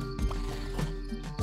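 A horse enemy in the video game Loot Rascals, short clip-clop hoof beats, a few quick thuds spaced across a second and a half, moderately loud over a steady game background.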